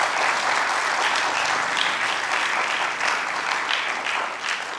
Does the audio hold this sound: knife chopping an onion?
no